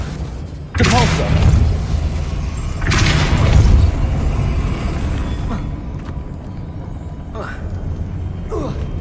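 Depulso force-push spell cast in the Hogwarts Legacy video game, two heavy booming thumps a couple of seconds apart with rumbling tails, then softer whooshing game effects over steady background sound.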